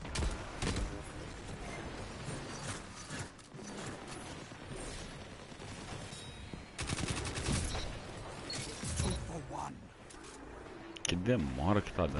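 Pulse rifle fire in a shooter video game, dense bursts of gunshots and mechanical clicks recurring through the stretch, with people chatting in Portuguese over the gameplay.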